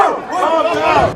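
A crowd of fans outside a shopping center in Oslo yells and cheers together in a loud, dense roar of many overlapping voices, close by and continuous throughout.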